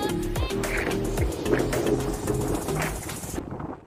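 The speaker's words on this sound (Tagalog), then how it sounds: "Ang daming ibon" Many birds call and pigeons or doves coo at a seaside fishing spot in Rabigh, Saudi Arabia, in the early morning, a busy chorus over ambient noise with some voices in the background.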